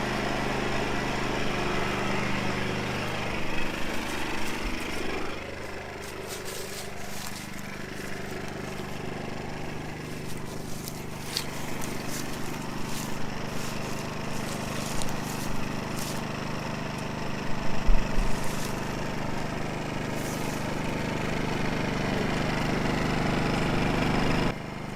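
A WEN 56203i 2000 watt inverter generator runs steadily for the whole stretch, a constant mid-level engine hum, fairly close, with light handling knocks and clatter over it.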